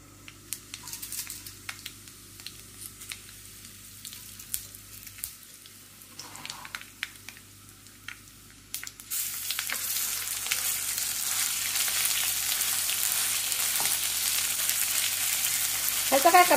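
Mustard seeds crackle and sizzle in hot oil for tempering a Maharashtrian katachi aamti; quiet scattered pops first, then a loud, steady dense sizzle that fills the rest of the clip, with no talk.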